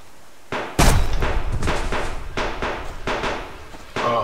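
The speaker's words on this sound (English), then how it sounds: "Oh, they're shooting it." Gunfire in the survival hunting game Subsistence: a short run of sharp booming reports at an irregular pace, loud and close, each ringing out briefly before the next.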